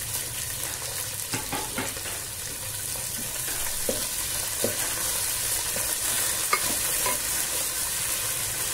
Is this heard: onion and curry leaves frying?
yes